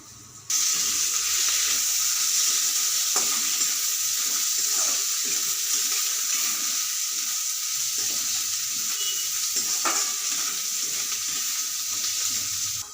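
Washed ingredients dropped into a hot pan set up a loud, steady hiss of frying that starts abruptly and holds almost unchanged, with a few small pops scattered through it.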